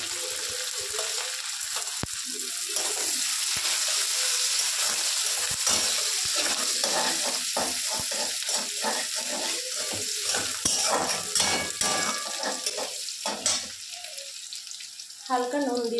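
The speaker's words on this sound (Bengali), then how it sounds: "এবার আমি তেলের উপরে পেঁয়াজ কুচিটা দিয়ে দেবো" Chopped onion goes into hot oil with lightly browned garlic and sizzles loudly and steadily, with stirring and occasional utensil knocks throughout.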